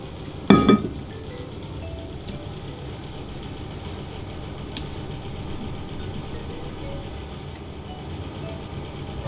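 A glass casserole dish clinks sharply a couple of times as it is handled, close and brief near the start, followed by a steady low room hum.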